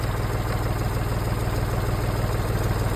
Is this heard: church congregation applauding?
no